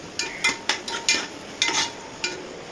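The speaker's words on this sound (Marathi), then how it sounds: "हलवा हलवा कांदा हलवा हो" A spoon scrapes and clanks in a pan of frying onions, in a few quick irregular strokes with short gaps between them. The sound is close and fairly loud over a faint hiss.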